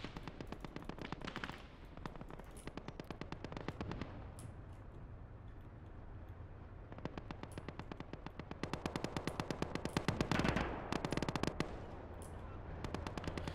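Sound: distant gunshots and explosions in a realistic war video game

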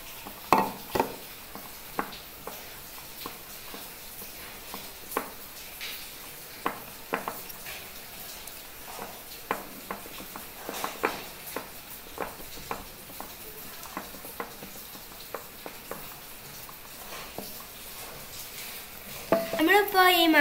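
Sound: mixing flour into cake batter

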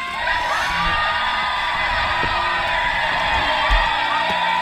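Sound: rebel yell at Gettysburg battlefield

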